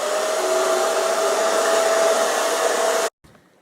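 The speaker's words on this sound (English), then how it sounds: "The blow dryer acts as the heat." A hair dryer blows in a steady, loud whoosh for about three seconds, then cuts off abruptly.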